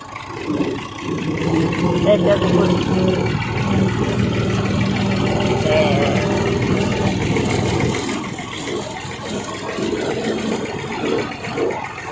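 A village tractor engine running at a steady low idle throughout, with a continuous rumbling drone and a slight dip partway through.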